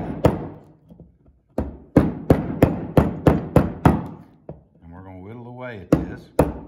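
A hammer taps a chisel into wood for setting a shallow cut, about a dozen sharp, close, evenly spaced strikes in bursts, with a brief lower tonal sound between them.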